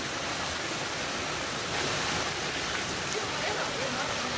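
Water of the Juam valley mountain stream in the Yeongnam Alps pours steadily over rocks, a continuous broadband rush that stays even and close throughout.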